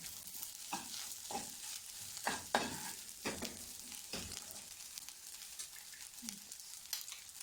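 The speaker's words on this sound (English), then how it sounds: "stir it in" Egg fried rice stirred in a frying pan: a spatula scrapes and tosses the rice in repeated uneven strokes over a soft, steady sizzle, close and clear with no talking.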